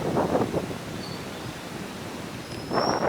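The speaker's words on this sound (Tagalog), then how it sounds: "Mahangin siya guys, kaya maingay." Steady broadband wind roar buffets the microphone throughout at Banana Beach, swelling louder at the start and end, with a faint higher tone passing in the background.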